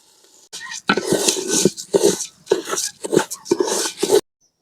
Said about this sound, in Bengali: এবার চাইল গুনাও একটু ভেজে নেবো।